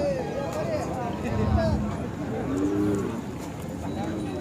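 A Khillar bull lows a few times amid a busy outdoor crowd at a cattle market in Sangola, with people talking nearby throughout.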